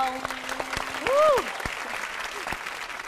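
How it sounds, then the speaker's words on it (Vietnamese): Audience applause in a Vietnamese TV dating show studio: scattered, sharp claps with a brief voice rising over them. "Tiếp tục, vỗ tay thôi."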